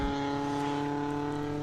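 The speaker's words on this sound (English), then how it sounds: "we see the 44 car chugging along the back straight, bringing the Mini home" A steady, droning engine note from the number 44 Mini, an under-2-litre race car, holds an even pitch as it runs along the back straight at Winton Motor Raceway, close and continuous with no talk.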